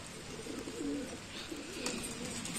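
Pigeons coo softly in the background, a low, steady, murmuring call that continues throughout, faint and slightly distant.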